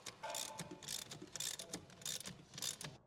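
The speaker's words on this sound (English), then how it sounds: "Install the spring compressor and use a 22mm socket to compress the spring." A hand socket ratchet clicks in quick repeated bursts while a spring compressor squeezes the coil spring on a Ford Fusion coilover strut, the pawl ticking steadily and close up with no talking.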